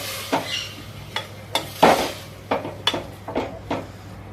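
Dal, tomato and onion being sautéed together in a pressure cooker, with a spoon scraping and clinking against the pot in irregular bursts over a faint background sizzle, close and fairly quiet, no talking.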